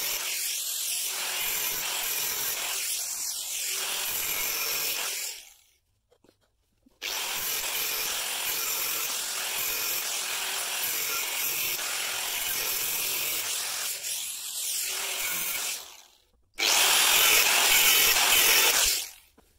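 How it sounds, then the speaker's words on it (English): A scrap pipe clamped in a vise is cut with a loud, harsh, steady grinding noise that runs in three long stretches separated by brief pauses. "I've got that piece of pipe in the vise and I'm going to cut it along here"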